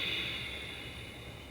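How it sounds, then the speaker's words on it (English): Steady closed-mouth ujjayi yoga breathing, a continuous airy hiss held at an even level throughout, close and alone without talk. "keep our mouths closed while trying to maintain that hissing sound. Sometimes this is called Darth Vader breathing."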